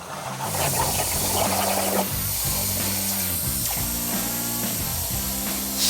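A Premier Plasma 4x4 table cuts a cross member, chassis brackets and axle brackets for a Chevy race truck, giving a steady loud roaring hiss with a stepped mechanical hum from the gantry moving throughout.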